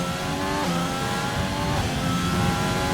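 Race car engine in a racing video game at the start of a hot lap at Austria, a steady loud drone with shifting revs held throughout, no talk.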